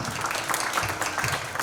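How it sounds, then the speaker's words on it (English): Steady applause and clapping from a crowd at a book launch event, dense and sustained throughout with faint voices mixed in. "Huge round of applause."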